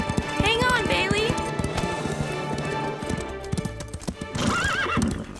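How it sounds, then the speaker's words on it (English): Cartoon horses whinny loudly several times over a steady, close clip-clop of hooves trotting, with a busy soundtrack underneath. "I don't know what's bothering the horses."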